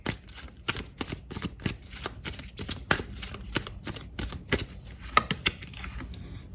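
Tarot cards being shuffled by hand in a quick series of sharp riffling slaps and flicks, close and fairly quiet, irregular in rhythm, with no talk.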